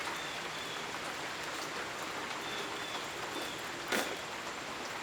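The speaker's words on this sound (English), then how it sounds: "So it turns out we were in an area of heavy rain" Heavy rain from a localized cell during a severe thunderstorm warning falls as a steady, dense hiss throughout, with one brief louder burst near the end and no talking.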